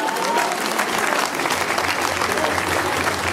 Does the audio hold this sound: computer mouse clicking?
no